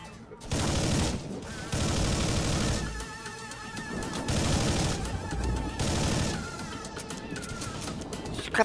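Rapid gunfire in the Collapse video game, loud sustained bursts broken by short pauses, repeating several times close up.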